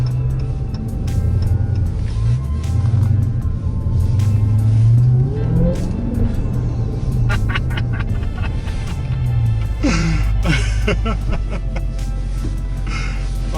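A Dodge Challenger Hellcat SRT Widebody drives off on a short spin, its engine rumbling steadily and revving with rising pitch, loud and close throughout, with brief voice sounds near the end.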